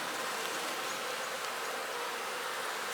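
Honey bees buzz on a hive frame during a hive inspection, a steady, fairly faint hum with no voices over it.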